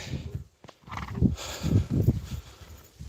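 Hooves of a horse moving close by on hard ground, uneven muffled thuds and clops in an irregular gait over a short stretch, fairly quiet with no talk.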